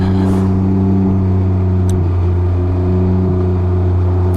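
A car engine idles in traffic stuck behind a box truck, giving a loud, steady low hum and drone with slight rises in revs and no talk.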